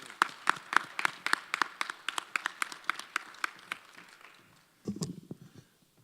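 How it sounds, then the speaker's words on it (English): An audience at a university convocation claps to welcome a speaker: a thin, fairly even run of distinct handclaps, close and crisp, fading out before a voice briefly begins. "Ladies and gentlemen, give me a round of applause for Dr. Raymond Winbush."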